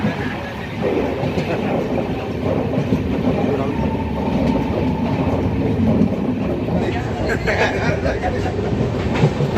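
A passenger train rolls along from inside the carriage, a loud steady rumble with rhythmic clatter of wheels on rails, continuous and close, with faint voices in the background.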